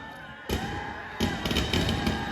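Firecrackers going off at an outdoor political rally in Mangalagiri, a few sharp bursts and crackles sounding at moderate distance over a steady crowd murmur.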